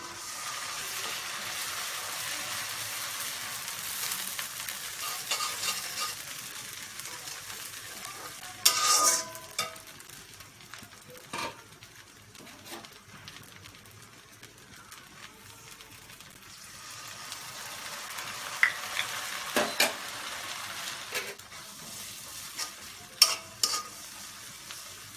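Ground spice paste sizzles and fries with softened, reddened onions in mustard oil while a spoon stirs it, a low steady hiss broken by a few sharp scraping clatters of utensil against pan.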